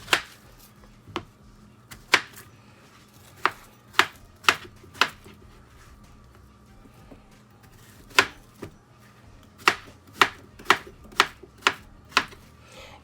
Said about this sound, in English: what you need to do is just to chop this up like so